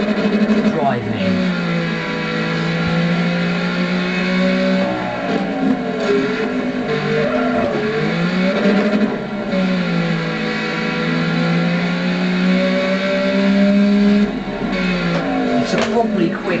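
An early-1960s Ferrari racing car engine revs on a track, loud and close, its pitch rising and falling through gear changes for the whole stretch.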